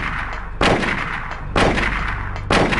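Gunfire from the PS1 video game Silent Hill: three loud, sharp shots evenly spaced about a second apart. Each one rings out with a metallic tail, and there is no talking.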